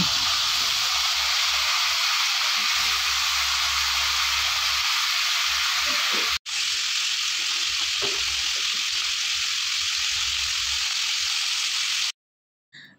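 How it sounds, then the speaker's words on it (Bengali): Hilsa fish heads frying in hot oil in a home kitchen, a steady loud sizzle and hiss running continuously with a brief break midway, then cutting off near the end. "তারপরে তেলটা গরম হয়ে গেলে ইলিশ মাছের মাথাগুলো ভালো করে ভেজে নেব।"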